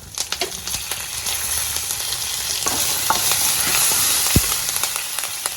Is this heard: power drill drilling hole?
no